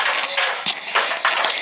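Metal feed pans clank and rattle against each other at close range, a busy run of bright clinks and knocks with no talking.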